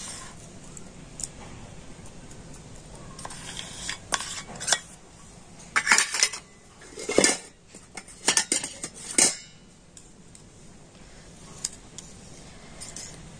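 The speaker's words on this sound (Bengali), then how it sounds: "তো এই খেজুরের গুড়টা এখন আমি দুধের মধ্যে দিয়ে দিচ্ছি" Date palm jaggery goes into milk in a bowl, with a run of metallic spoon clinks and scrapes against the dish, loudest in irregular bursts in the middle and quieter toward the end, no talking.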